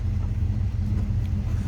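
A 1968 Chevrolet Camaro convertible's 327 V8 idles through dual exhaust, giving a steady, deep, close-up rumble heard alone for a brief moment.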